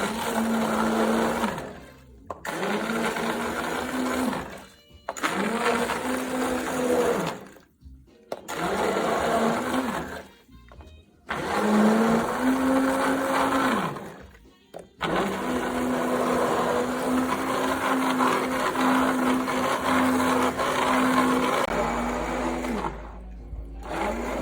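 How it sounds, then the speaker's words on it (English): An immersion blender whirring in a pot of loaded potato soup, a loud close motor whine in long bursts with brief pauses between, the pitch dipping as it churns through lumps. "I'm just gonna go in here with my Immersion Blender."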